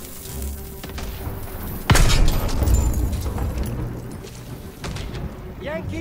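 A grenade explodes in Call of Duty: WW2 with one sudden, loud boom that rumbles off over a few seconds. It sits amid battlefield noise with voices talking.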